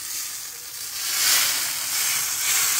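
Hot ghee tempering sizzles and crackles steadily in a pan for khichdi, close up, swelling slightly midway with no talking.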